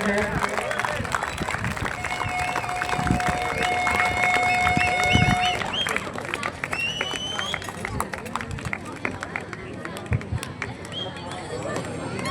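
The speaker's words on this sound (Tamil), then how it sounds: "பலத்த கரகோஷத்தினை வழங்குங்கள் வீரர்களுக்கு." Crowd applause for the players at a youth football final prize-giving, broad steady clapping from a large gathering under a loud announcer's voice through a PA, with other tones and chatter mixed in.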